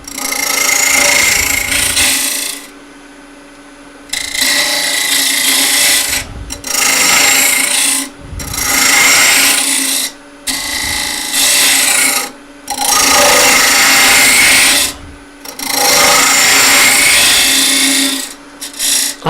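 A wooden yarn bowl being hollowed on a lathe: the tool gives loud, steady rasping and scraping in long bursts, broken by short pauses as the cut stops and starts again, with a constant hum underneath.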